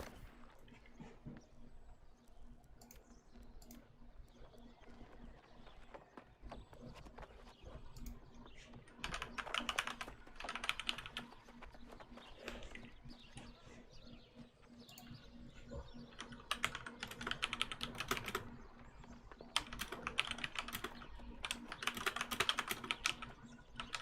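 Quiet, close computer keyboard typing comes in irregular bursts of rapid key clicks with short pauses between them, soft against a faint steady hum.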